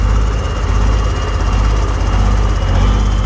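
A Freightliner cabover truck with a Big Cam Cummins engine runs in high range, giving a steady, loud, low diesel drone that stays close and constant with no talk over it.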